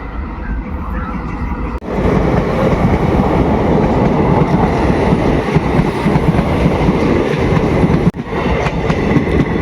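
A train passes on a railway line in Banbasa, Uttarakhand, a loud, close, steady rumble with rhythmic wheel clatter lasting several seconds, broken by sharp jolts at the start and near the end.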